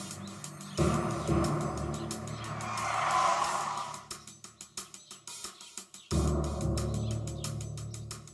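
A police car revs hard and pulls away with tires skidding and squealing, followed by a series of rapid engine bursts and another surge of acceleration, loud and close.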